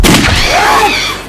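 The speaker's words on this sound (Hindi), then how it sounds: "ये तो गोली की आवाज है।" A single loud, booming blast with a sharp onset that rolls off into a fading rumble, close and alone.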